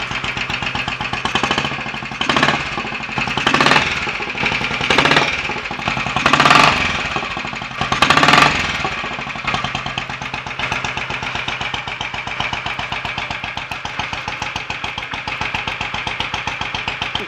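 A Royal Enfield 500 single-cylinder motorcycle, freshly tuned, is kicked over in several loud bursts before catching and settling into a steady, close, thumping idle that runs evenly to the end.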